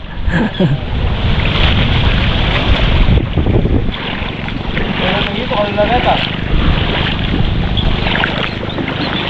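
Steady rushing water and wind noise surround a moving boat, a continuous loud wash with occasional faint voices beneath.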